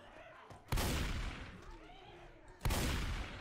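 Two sharp gunshots from Left 4 Dead 2, the first near 0.7 s and the second near 2.7 s, each loud and close and ringing against a dense game-ambience background.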